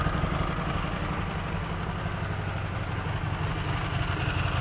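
A Hyosung 125 GTR motorcycle engine idles steadily and close, a continuous even putter with no speech.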